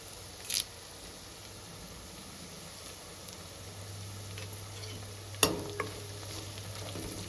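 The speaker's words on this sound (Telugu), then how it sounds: "కరివేపాకు వేసుకుందామండి, ఒక 3 రెమ్మలు." Curry leaves frying in hot oil for a Telugu fish curry, heard as a faint, steady sizzle with a couple of sharp pops and crackles, no talking.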